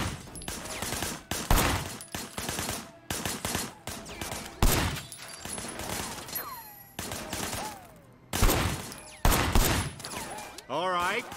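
Gunfire in the video game Sleeping Dogs comes as repeated loud bursts of shots with short gaps between them, mixed with game effects and voices speaking under the shooting.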